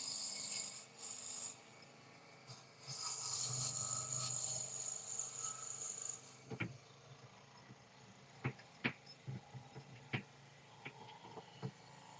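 A pen blank spins on a wood lathe under a brand-new cutting tool, giving about six seconds of steady, rough scraping and shaving, then quieter rotation broken by scattered sharp taps and clicks.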